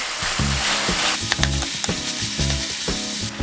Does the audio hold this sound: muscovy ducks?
no